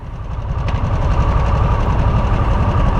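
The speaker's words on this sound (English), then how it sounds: "it cranks right up with a push of the button" A Harley-Davidson Nightster Special motorcycle engine runs at a steady idle just after starting, close and loud, with an even low throbbing pulse and no talk.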